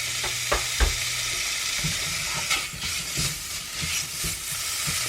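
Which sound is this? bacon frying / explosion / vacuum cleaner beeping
bacon frying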